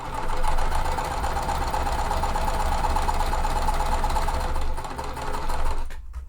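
A sewing machine stitching quilt pieces, running in a fast, even, continuous mechanical whir close by, then stopping abruptly near the end.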